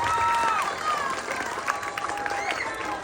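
Audience applauding at a trans pageant, dense clapping mixed with crowd noise and shouted voices, loud and continuous.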